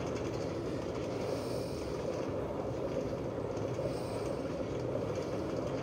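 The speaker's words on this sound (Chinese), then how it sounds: "那矿车你喜欢吗？" A minecart rolls along rails in Minecraft, a steady, dense rumbling clatter that holds at one level throughout.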